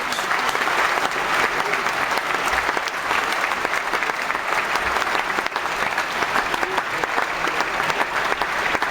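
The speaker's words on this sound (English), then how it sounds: "And the audience applause." Steady audience applause fills the whole stretch, a dense continuous wash of clapping from a crowd, fairly loud and even with no talk over it.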